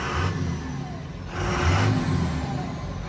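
A stock 1999 Dodge Ram 2500 with a Cummins diesel and 5-speed manual revs twice, each rise a rough, gravelly swell that settles back to idle, heard close by.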